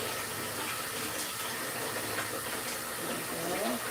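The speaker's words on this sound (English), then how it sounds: "Let me get a hand wash" Water running steadily from a kitchen tap while hands are washed before handling raw pork, a continuous broadband splashing rush at close range throughout, with no speech over it.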